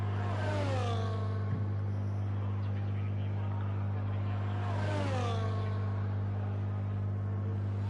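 An onboard racing car engine screams through a lap of Imola in a racing video game, revving up and dropping through gear changes in two sweeping surges over a constant low electrical hum.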